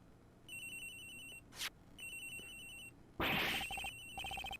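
A phone ringing in the video game Ace Attorney Investigations: Miles Edgeworth, an electronic ring repeating in short bursts with brief gaps, interrupted by a couple of sharp sound effects.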